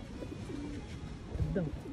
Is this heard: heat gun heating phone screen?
no